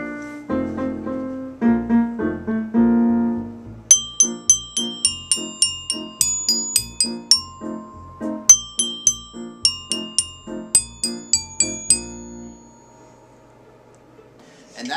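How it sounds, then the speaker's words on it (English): Handbells play the song Major Duple, first lower sustained tones, then a run of bright ringing strikes in a steady pulse, each note chiming and decaying before the next. "And that's how you play Major Duple on the bells."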